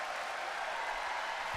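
Sustained applause from a tennis crowd at a Davis Cup doubles match between Singapore and Iran, a dense, even wash of clapping heard at moderate distance without pause.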